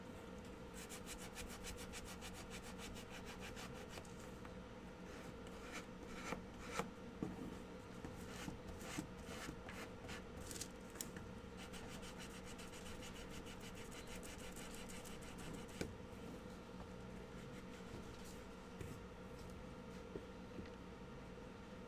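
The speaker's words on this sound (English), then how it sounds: "You're sanding the edges." Sanding the edges of a wooden craft piece for a bunny shelf hugger: continuous quiet scratchy rubbing in quick repeated strokes, close and faint, with no talking.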